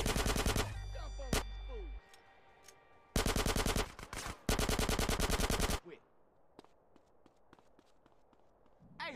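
Automatic gunfire in GTA San Andreas, loud rapid bursts in several volleys with footsteps and lighter shots trailing after, faint background voices.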